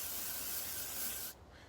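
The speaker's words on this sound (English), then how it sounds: "I'm going to give the club face a good spray." A steady aerosol spray hisses onto a golf club face for just over a second, close and even, then cuts off abruptly leaving quiet room tone.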